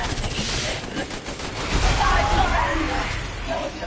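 Rapid sustained gunfire from a full magazine in Resident Evil Village, dense and continuous across the whole stretch, mixed with game noise and a voice talking over it.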